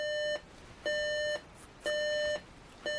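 RCA clock radio alarm going off with repeated electronic beeps, three evenly spaced half-second tones separated by short pauses, fairly faint and steady with no talking.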